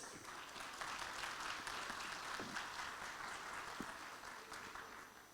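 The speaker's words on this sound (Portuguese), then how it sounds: "Uma salva de palmas" Audience applause at a tax auditors' conference lecture, a sustained patter of many hands clapping in a hall, fairly even and continuing throughout the clip with no talk.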